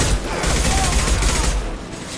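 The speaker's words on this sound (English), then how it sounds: "Blue Suns and Vorcha shooting anything that moves" Gunfire from Blue Suns and Vorcha fighters in Mass Effect Legendary Edition: a loud, steady barrage of rapid shots and booms that thins out near the end, with voices faintly mixed in.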